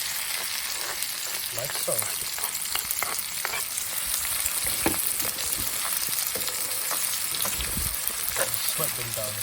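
Garlic, curry leaves, onions and green chilies fry outdoors for a Sri Lankan crab curry, a loud dense sizzle running throughout with spoon stirring knocks, and a voice briefly speaks over it.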